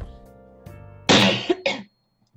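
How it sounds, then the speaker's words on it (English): A person coughs close to the microphone, a short burst of two harsh coughs after a brief throat noise, loud and alone with no talking. "Seriously, why am I coughing so much now?"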